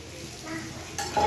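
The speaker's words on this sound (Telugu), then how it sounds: "చూడండి, రైస్ కూడా వేస్తాను." Cooked rice tipped into a hot pan for egg fried rice, giving a soft sizzling, stirring rustle close by with a brief louder scrape near the end.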